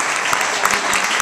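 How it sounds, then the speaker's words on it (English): A big round of applause from an awards ceremony audience greeting a co-presenter, a brief dense burst of clapping with individual claps popping out of the wash. "I'd like to hear a big round of applause for my beautiful co-presenter"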